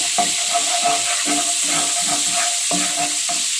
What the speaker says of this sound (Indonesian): setelah menteganya lumer, kita goreng seperti biasa